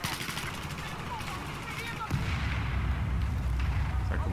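Gunfire in a hunting video game cracks repeatedly in quick bursts, loud and close, with a heavier boom midway and continued shots after.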